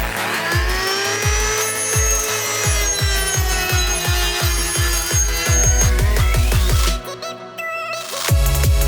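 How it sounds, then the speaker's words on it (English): An angle grinder with a flap disc grinds down tack welds on a steel torsion beam for an AWD Chevy Cruze build, making loud rhythmic scraping passes under a whining tone before a brief dip and a final burst. "I took my flap disc, cleaned up those tack welds that I had on there just to even things out"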